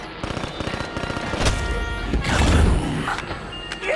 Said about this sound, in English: It's a ray gun.